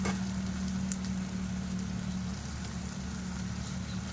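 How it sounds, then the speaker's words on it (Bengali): Garlic frying with browned onions in a pan, a steady close sizzle with a low continuous hum beneath. "রসুনটার মধ্যে দিয়ে দিয়েছি রসুনটাকে এবার আমি ভালো করে এর সঙ্গে ভেজে নেব"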